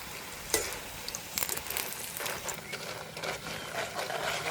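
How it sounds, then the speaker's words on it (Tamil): Vettu palakaram, a traditional snack, fries in hot oil with a soft, continuous bubbling sizzle and scattered crisp crackles, close by and low in volume. "ஓடிக்கே நல்ல கலகலண்ட சத்தம் கேட்குது எங்களுக்கு"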